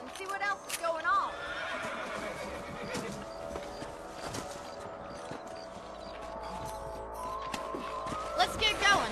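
Horses whinny and neigh in a Wild West ranch video game, with hoofbeats clopping along beneath, layered over game ambience and background music; a neigh stands out near the start and again at the end.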